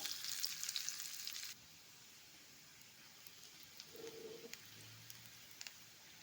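Chopped onion frying and being stirred in a pan, a bright sizzling hiss that drops away abruptly after a second and a half, leaving only faint stirring, with a low cooing bird heard in the background.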